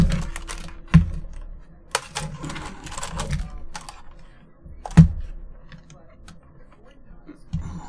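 Clicky typing on a corded computer keyboard, a steady run of rapid keystrokes with a few louder thumps, close and dry.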